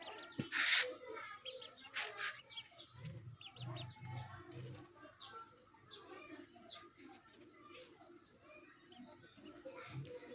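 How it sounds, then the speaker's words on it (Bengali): A brood of ducklings peeps in a dense, continuous flurry of high chirps, close by and fairly soft, with a brief louder burst near the start and low background murmur throughout. "কত কিউট হাঁসের বাচ্চা"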